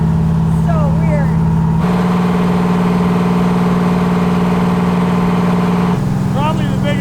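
A 1948 COE rat dump truck with a V12 Detroit Diesel drones loudly at idle, stepping up in pitch, holding, then dropping back, while people talk over it.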